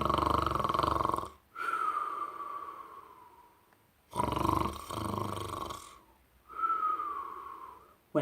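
A narrator's voice imitates the snoring of the Snoogle, a storybook creature, with two long snore cycles: a rough, breathy rasp that slides into a drawn-out whistling tone, each followed by a pause.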